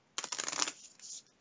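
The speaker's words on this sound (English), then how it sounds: "Alright, so now shuffling." Playing cards being shuffled for a Kingdom Death Monster board game, a quick close riffle of crisp fluttering snaps followed by a softer squaring of the deck.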